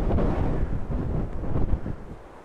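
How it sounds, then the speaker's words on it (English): Strong gusts buffet the microphone on an open countryside walk, a loud, continuous low roar that swells and dips for the whole stretch with no talking. "Oh, I can hardly stand up with the wind."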